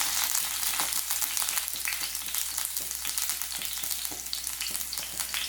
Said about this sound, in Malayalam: ഇതിലേക്ക് കുറച്ച് ചെറിയ ഉള്ളി മുറിച്ചിട്ട് കൊടുക്കാം.